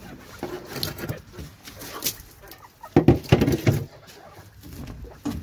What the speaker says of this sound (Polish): Ale słychać koguty.